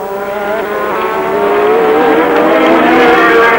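Formula 1 race cars at the 1986 Spanish Grand Prix scream loud and near, their high engine whine holding steady and then climbing in pitch under sustained full throttle.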